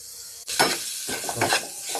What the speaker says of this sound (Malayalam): നമ്മൾ അരച്ച് വെച്ച മുളകിൻ്റെ ഇല കംപ്ലീറ്റ് ആയിട്ട് നമുക്ക് ഈ ഒരു വെളിച്ചെണ്ണയിലേക്ക് മാറ്റിയേക്കാം